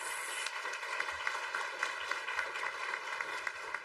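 Audience applause rises at the opening ceremony of a sustainable islands summit, a dense, steady wash of many hands clapping heard from a distance and fairly faint, with no voices over it.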